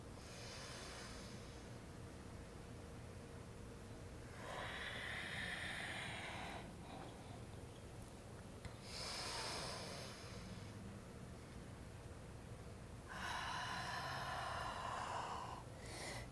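Slow, steady breaths during a beginner standing yoga flow, two soft airy exhales rising and falling in long even swells, close and quiet, with no talking.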